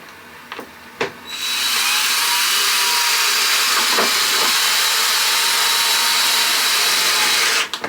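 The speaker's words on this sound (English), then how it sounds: "Oh, the water is boiling." Water comes to a rolling boil in a pot on a stove, a few knocks giving way to a loud, continuous close hiss and bubbling that holds steady for several seconds, then cuts off abruptly.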